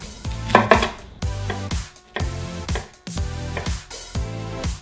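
Knife finely chopping half an onion on a board, loud close rhythmic bursts of rapid chops separated by short pauses, with no voices.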